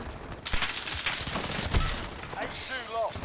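Rapid M4 rifle fire in Call of Duty Modern Warfare, a dense stream of close gunshots running through the whole moment, with a player's voice talking over the shooting.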